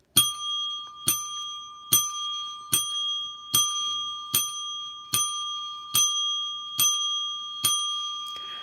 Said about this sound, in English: I'm ringing the bell not only for my mom, but for all those that are losing their lives to this COVID.